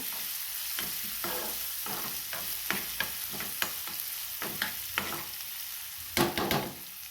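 Finely chopped onion with garlic paste frying in a pan, a steady sizzle under repeated scraping stirs from a spatula, several strokes per second with a louder clatter near the end, close and with no talk.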